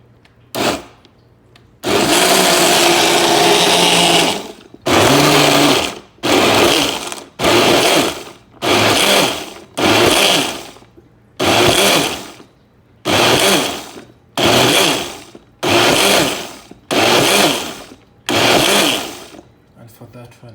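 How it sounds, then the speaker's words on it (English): A countertop blender whirs through strawberries and peeled mangoes in one long, loud burst, followed by about a dozen short, evenly spaced pulses with brief silences between them. "Now I'm going to blend all the fruits, and that is 1 cup of strawberry, 2 mangoes peeled"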